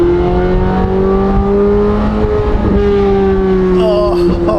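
A Chevrolet Corvette C8 Z06 engine revs loud and close with a steady, droning roar that climbs and holds, briefly dips near the end and then rises again.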